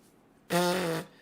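A single buzzy, pinched lip vibration against a trumpet mouthpiece, the wrong kissing-style embouchure, lasting about half a second, close and fairly loud, with quiet before and after.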